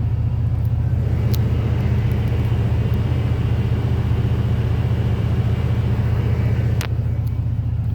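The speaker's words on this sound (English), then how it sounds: "That whine, that slight whine that you may or may not be able to hear, is the power steering pump" A 1986 Ford F250 bullnose pickup engine idles steadily and loudly up close, a deep continuous rumble with a slight power steering pump whine from a leaking pump barely rising above it.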